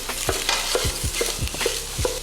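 Food frying in a pan is broken up with a utensil for breakfast burritos: rhythmic scraping and tapping strokes, about two per second, over a steady close sizzle, no voices.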